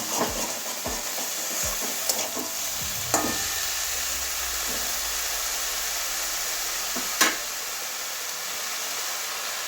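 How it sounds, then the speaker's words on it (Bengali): Eggplant and bitter gourd fry in a pan with a steady hiss, while a few spatula scrapes and knocks open the stretch and two sharp clinks cut through later. "ভালো করে সবগুলো মিশিয়ে দিচ্ছি"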